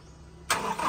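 A 2019 Toyota Fortuner with a damaged ECU cranks and fires up, a sudden loud burst of broadband engine noise breaking in after a quiet moment and holding steady up close.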